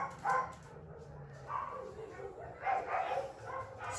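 A young rescue puppy at a dog shelter gives short yips and soft whimpers close by, in a few brief bursts over a low background, while a person speaks gently nearby.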